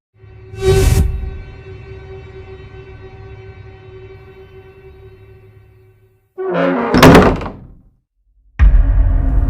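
A loud thump, then a long low droning tone, followed by a creaking, scraping burst as a closed room door is opened in a Hindi horror cartoon, then another heavy knock, close and loud.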